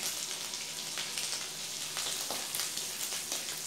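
Ginger and green chillies sizzle steadily in melted butter, a dense continuous frying hiss with faint crackles, close and even throughout, no voices over it.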